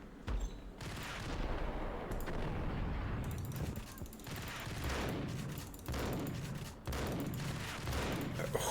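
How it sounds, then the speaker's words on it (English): Loud, dense volleys of gunfire in the Max Payne video game, with shotgun blasts fired at an enemy amid overlapping shots and booms that run almost continuously with brief gaps. "Let's try shooting him dead in the face with a shotgun, huh?"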